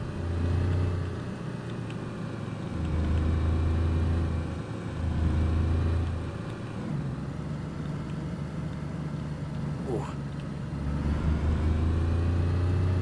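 Car driving in DayZ, a steady low engine drone that rises and dips in waves as the vehicle moves, loud and continuous throughout with no talk.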